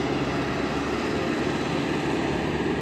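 A tractor drives round and round on a flat, snowy open ground, its engine a steady, loud, continuous drone with a broad rumble that holds without pause throughout.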